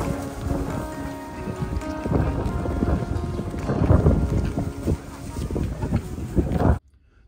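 Strong gusty wind roars across the microphone at an outdoor fish market, a loud continuous rumble with rising gusts, cutting off abruptly at the end.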